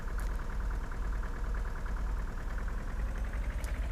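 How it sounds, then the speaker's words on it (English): A slow tractor in the Farming Simulator 2013 video game runs with a steady, close, low throbbing engine drone, evenly pulsing without change throughout. "And this is a slow ass tractor"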